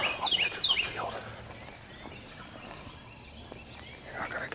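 A wild turkey gobbles twice in quick succession near the start, rattling calls carrying through a quiet outdoor background with faint birdsong, during a turkey hunt.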